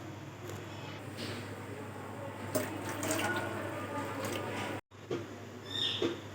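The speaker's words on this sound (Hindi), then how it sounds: "तो 2 गिलास हम इसमें और शामिल करेंगे।" Two glasses of water poured into phalsa juice, a continuous splashing fill with a brief break midway and a short clink near the end, close by, no talk.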